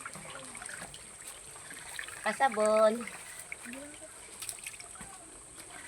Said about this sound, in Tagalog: Dahil sa sobrang init, magbubuhos lang tayo ng katawan.